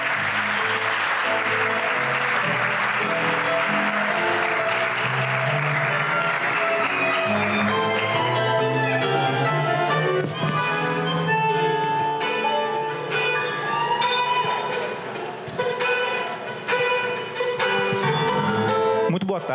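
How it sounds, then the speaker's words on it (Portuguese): An audience at a literary festival panel applauds a literature professor being introduced as moderator, steady clapping that blends with ringing musical tones which grow more prominent as the applause thins. "Aplausos para Vitor Valente"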